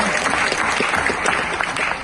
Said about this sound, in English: A round of applause for all the loved ones who got us here.